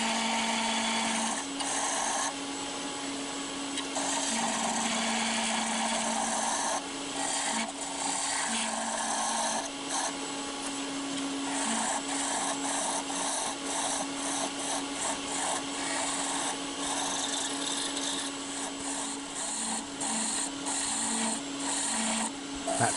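Sandpaper rubs steadily against a piece of spinning maple wood on a woodturning lathe, making a continuous close abrasive hiss over a low, humming motor tone that runs throughout.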